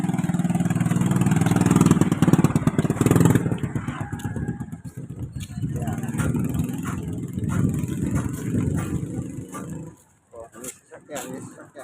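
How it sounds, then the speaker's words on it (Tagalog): A car or motorcycle engine runs close by on a street in Barangay 91, Tondo, Manila, loud at first then fading as it passes, with footsteps and street background continuing afterward. "May sasakyan."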